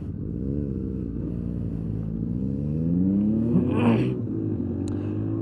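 A nice-looking car passing on a road beside cyclists, its engine note climbing steadily as it approaches and peaks loud and close, then a quick whoosh as it goes by.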